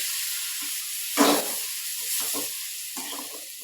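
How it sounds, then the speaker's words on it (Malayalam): Fish frying in hot oil in a home kitchen, a steady sizzle with a sharper hissing burst as pieces go into the pan, then softer crackling bubbles. "ഇനി മീൻ വറക്കാനായിട്ട് ഇട്ടേക്കുന്നു"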